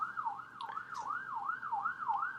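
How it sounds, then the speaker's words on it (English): An ambulance siren wails on a nearby road, its rising and falling tone repeating steadily about twice a second and staying loud throughout, with no one talking over it. "there is an ambulance traveling down my road"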